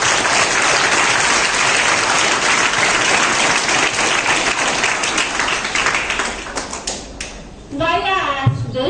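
Loud, sustained applause from a classroom of students clapping for their teacher, dense and even for most of the time before breaking up into scattered claps, with children's voices chattering near the end.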